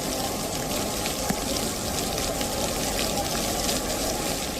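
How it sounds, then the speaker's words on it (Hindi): Heavy monsoon-style rain pouring down in Chittoor, Andhra Pradesh, with rainwater flowing through a temple compound, a dense, steady roar of downpour throughout. "बारिश इतनी तेज है कि सब कुछ सफेद दिखाई दे रहा है।"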